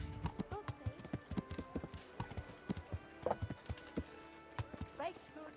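Hooves clip-clop in a steady walking rhythm from a horse in the medieval role-playing game Kingdom Come: Deliverance, close and clear, with someone talking over the hoofbeats and a brief whinny near the end.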